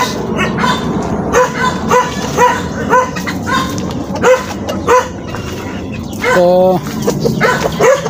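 A pet dog tied up outdoors barks repeatedly in short sharp bursts, with a higher whimpering yelp near the end, while a person talks in the background.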